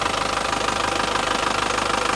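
A Toyota Grand Touring Turbo engine running in healthy condition, a steady close mechanical idle with a fast even ticking pulse and constant hum, no talk.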